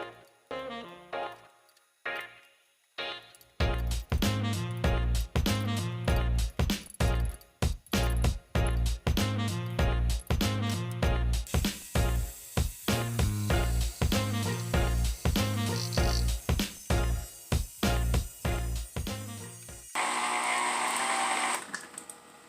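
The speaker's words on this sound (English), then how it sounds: "transferring it over to the blender and putting a nice puree on" A home blender purees cooked apple butter, running in loud pulsing bursts with uneven, straining starts and stops, then a higher-pitched whir near the end.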